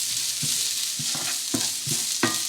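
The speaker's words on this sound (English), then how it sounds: "Let's just saute this quickly." Finely diced garlic and ginger sizzle steadily in hot oil while a utensil scrapes and stirs the pan in about five quick, rhythmic strokes, close and clear.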